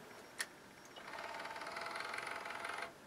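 A Sony CDP 200 CD player tray opens with a faint click, then a quiet, steady motorized whir that lasts about two seconds before stopping.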